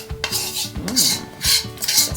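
Melted chocolate and butter mixture stirred in a bowl, with repeated scraping and clinking of a utensil against the bowl in an uneven rhythm, close and fairly loud.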